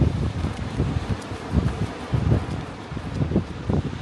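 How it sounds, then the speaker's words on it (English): Strong gusty morning wind at Aberdeen Beach buffets the microphone with low rumbling surges that rise and fall continuously, with no pauses and no voices. "Quite a windy morning"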